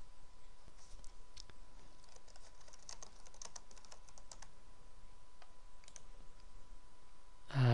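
Search keywords typed on a computer keyboard, a quick irregular patter of soft key clicks in bursts, close and fairly quiet, with no one speaking.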